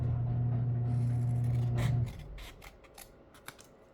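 Scissors snip through paper in a few short, crisp cuts following a steady hum that stops partway, with quiet rustling between the snips.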